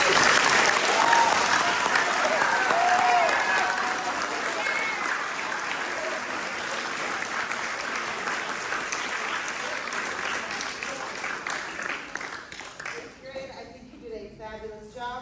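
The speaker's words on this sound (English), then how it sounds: "I have one more round of applause for all of you." Graduation ceremony audience gives a loud, sustained round of applause for the graduating class, dense clapping that gradually thins and tapers off toward the end.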